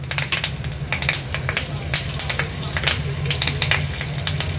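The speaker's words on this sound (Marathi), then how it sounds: "तेल आपलं गरम झालं की पाव चमचा हिंग ऍड करायचा आहे। नंतर ही थोडी कढीपत्त्याची पानं, अर्धा चमचा जिरं" Asafoetida, curry leaves and cumin crackle and sizzle in hot oil, a dense, steady frying hiss with sharp popping spatters throughout, close and loud, with a low hum beneath.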